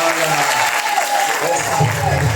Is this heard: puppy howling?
no